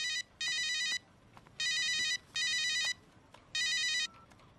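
A mobile phone ringtone plays in four short, bright electronic bursts separated by brief gaps, fairly faint against quiet background noise in a Telugu film scene.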